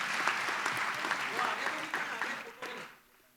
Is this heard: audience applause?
yes